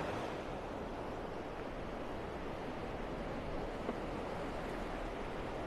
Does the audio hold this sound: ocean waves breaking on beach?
yes